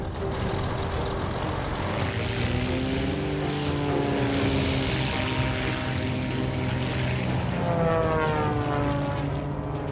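A propeller airplane engine at an airshow with wing walkers throttles up, its loud, steady drone rising in pitch as power comes on.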